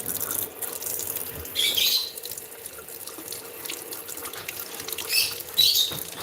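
Warm water runs from a tap into a sink to treat a Nigerian Dwarf goat's cheek abscess, a steady close splashing stream that swells and eases in a few surges.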